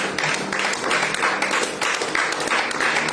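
A church congregation claps and cheers in praise of Jesus, steady rhythmic applause filling the room throughout with a few voices mixed in.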